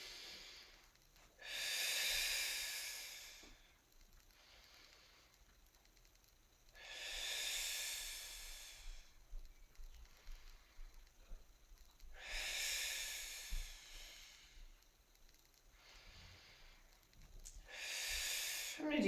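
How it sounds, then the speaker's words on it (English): Slow deep breaths during a gentle foam roller exercise class, four long airy inhale-exhale cycles spaced evenly about five seconds apart, close to the microphone and quiet, with no talking over them. "Maybe a deep breath here."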